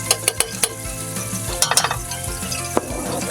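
Garlic sizzles and fries in a hot pan, a loud, close crackling hiss broken by sharp clinks and scrapes of a utensil stirring against the metal, with no speech.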